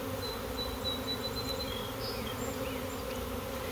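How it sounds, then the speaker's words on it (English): A honey bee swarm buzzes around two hive boxes fitted with a queen excluder, a dense, steady drone of many bees with higher whines of individual bees passing close by, and no talking. "These bees are gonna be tired."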